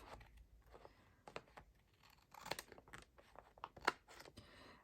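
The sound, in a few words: scissors trimming paper for a journal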